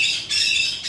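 A pet parrot squawks loudly and harshly at close range, two sustained raspy calls separated by a brief gap, with no talk over them.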